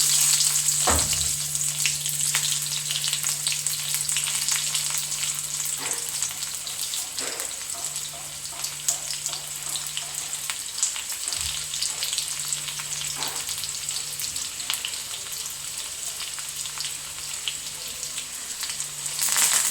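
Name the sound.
onions frying in oil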